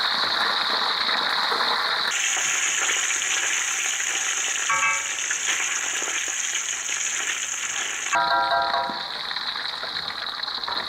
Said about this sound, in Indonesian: Oke, setelah itu kita goreng. Kita goreng untuk ayamnya sebentar aja.